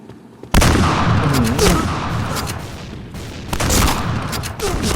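Rapid bursts of gunfire from the shooter game Point Blank rattle loud and close, repeated volleys and sharp shots crowding the whole stretch after a brief quiet start.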